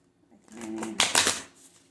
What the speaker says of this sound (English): I'm trying to shuffle it back this way.